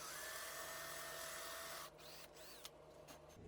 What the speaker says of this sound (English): I came back with a brad point bit and drilled a clearance hole for the threaded inserts I'll be using.